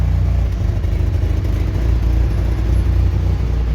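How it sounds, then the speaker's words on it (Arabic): A Fiat Tempra or Shahin car engine running with its exhaust blowing, a loud, steady low rumble with a continuous clattering texture throughout, close by and with no talking. "ضرب الشكمان بتاعها اهو"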